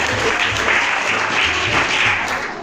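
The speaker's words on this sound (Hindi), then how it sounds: "नेहा मैडम के लिए भी तालियां बजा दें।" Audience applause at a school award ceremony at a gurukul in Ghaziabad, a steady, dense wash of many hands clapping at close range for the whole stretch, with no voices over it.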